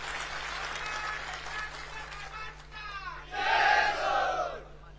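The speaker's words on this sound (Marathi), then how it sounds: "याच्यासाठी जरा जोरदार टाळ्या मारून त्यांचं अभिनंदन करा" A rally crowd at a Koregaon campaign meeting claps and shouts together, a dense roar of cheering that swells near the end over a steady background hum.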